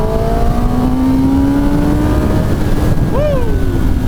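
A 2024 Kawasaki Ninja ZX-10R sport motorcycle pulls hard at high RPM, its loud engine note climbing steadily in pitch over a heavy roar of wind and road noise.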